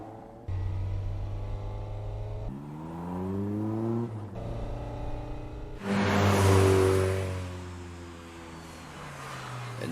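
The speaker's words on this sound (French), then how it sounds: "Elle ne fait pas le bruit d'une 86 habituelle." A Toyota AE86 with a modified engine approaches, its engine note climbing through rising revs, dropping briefly at a shift and then surging louder and closer before easing off, with no voices.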